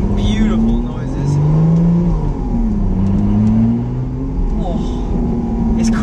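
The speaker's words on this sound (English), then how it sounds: "the engine making beautiful noises." Lotus Exige Sport 380 engine rising and falling through the revs as the car accelerates hard, loud and close inside the cabin, with gear changes and clicks from the gearbox.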